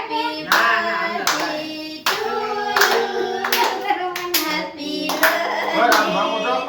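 A family claps around a child's second birthday cake, with a fairly loud run of handclaps in uneven bursts across several seconds, sharp gaps between them and voices mixed in.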